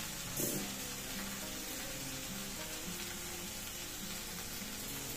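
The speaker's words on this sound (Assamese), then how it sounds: "মই ভেন্দিখিনি অলপ শুকান শুকানে ভাজি ল'লোঁ" Okra being dry-fried in a pan without oil or spices gives a soft, steady sizzle, faint and even from start to finish, with a small clatter near the beginning.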